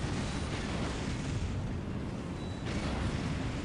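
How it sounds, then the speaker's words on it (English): Deep, continuous rumbling blasts of artillery from a Dawn of War Unification battle between Black Templar and Death Guard armies, heavy and sustained with rolling booms layered together. "Artillery thrown in."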